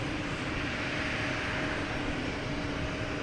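A JetBlue Airbus A320 jet at Boston Logan Airport gives a loud, continuous engine roar, a broad steady rush from start to end.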